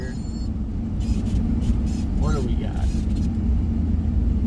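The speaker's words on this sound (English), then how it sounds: "It's a big traffic jam" Low, continuous vehicle rumble from inside a car stuck in a big traffic jam on a Phoenix road, steady throughout, with someone briefly talking over it.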